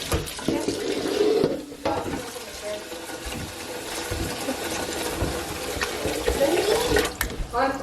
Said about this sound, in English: I'm gonna put chocolate milk in here.